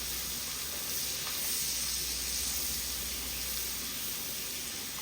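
Onions sautéing in a pan for Southern green beans with potatoes and bacon, giving a steady, even sizzle and hiss that holds close and constant throughout, with no talking.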